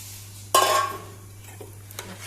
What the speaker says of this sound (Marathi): आतां हें पळय हांव दूद घालता भितर.